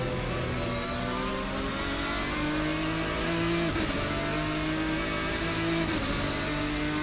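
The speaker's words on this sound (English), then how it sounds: "I can hear your car shifting back here." Race car engine in a racing video game from a bi-weekly race series, revving loud and steady with a rising tone, sharply dropping at two gear shifts before climbing again; no talking.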